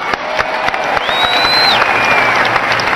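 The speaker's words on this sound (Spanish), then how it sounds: "¡Dele ese aplauso al Señor!" Loud, close crowd applause and cheering at an evangelical church crusade in Cali, Colombia, a thick wash of clapping with a high whistle-like tone rising and falling through the middle.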